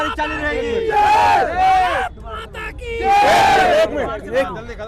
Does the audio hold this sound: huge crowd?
yes